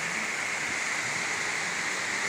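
Heavy rain from Typhoon Carina pours down in a dense, unbroken hiss, steady and close with no voices over it.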